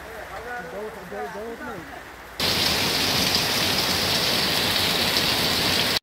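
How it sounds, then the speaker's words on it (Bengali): Heavy, storm-driven downpour over a Sundarbans river, a dense steady roar of rain that starts abruptly partway through after a stretch of people talking. "খুব ঝড়ো হওয়ার সঙ্গে কিন্তু খুব মুষলধারে বৃষ্টি হচ্ছে।"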